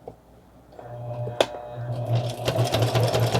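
A sewing machine backstitches a seam on a fabric toiletry pouch, its motor whirring in steady, rhythmic bursts that grow louder and more continuous toward the end, close by and alone with no talk.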